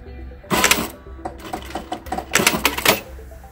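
A sewing machine stitching fabric for a vintage robe, two short loud bursts of rapid mechanical chatter separated by brief pauses, close and alone.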